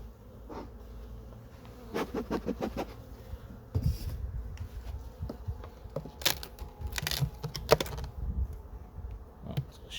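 Honey bees buzz around an opened hive in an apiary after their first spring cleansing flight, a steady close drone with sharper passes and faint handling knocks. No voices.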